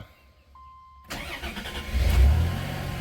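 A 1990 Dodge Grand Caravan LE engine cranks briefly and fires right up, settling into a loud, steady idle close by after a quiet moment with a faint electronic tone beforehand.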